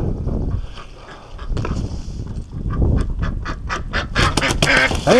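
A small duck quacks repeatedly, the calls growing quicker and louder toward the end, over steady background rustle and noise.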